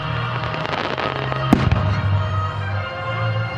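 Independence Day fireworks display by Zambelli Fireworks: loud crackling and popping bursts with one sharp bang midway, booming close and continuous for a few seconds.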